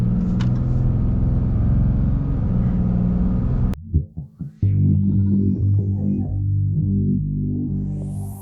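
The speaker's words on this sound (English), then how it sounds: "full-blown acceleration here." A 2022 Ram 2500 Limited heavy-duty pickup accelerates at full throttle with a loud, deep engine roar that briefly drops and stutters mid-pull as it shifts, then surges back strong and sustained, heard close with no talking.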